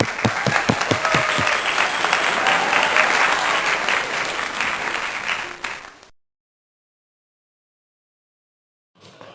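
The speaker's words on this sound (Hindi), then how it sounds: "तालियां" Applause from a church congregation at a Sunday worship service, loud and dense clapping with a few distinct early claps, fading out to silence partway through before a faint return at the very end.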